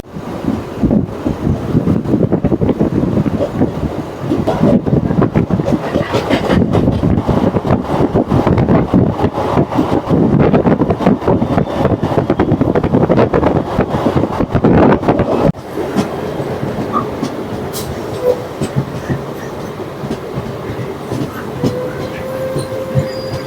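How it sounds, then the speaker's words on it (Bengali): The 08675 Bishnupur–Adra MEMU special rumbles toward Kalisen station, heard from on board as loud continuous wheel and track noise with rattling, easing to a quieter roll in the final stretch. "আমাদের ট্রেন এখন কালীসেনের দিকে এগিয়ে চলেছে"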